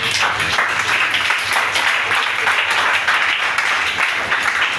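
A church congregation applauds to acclaim Jesus, with dense, sustained clapping from many hands filling the room at a steady, loud level throughout.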